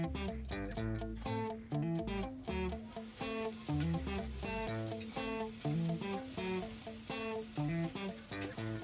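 Tomato added to onions in a frying pan sizzles with a steady, soft hiss that picks up a few seconds in, largely buried under loud, rhythmic background music.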